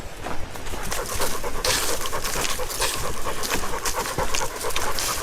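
Dog panting outdoors in a wooded nature park: steady, rapid breathy huffs go on without a break and sound close and fairly loud against a noisy open-air background.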